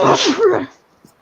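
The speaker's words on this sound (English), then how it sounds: "Whoa. Bless you" A single loud human sneeze, a sharp explosive burst lasting just over half a second, followed by near silence with a faint click.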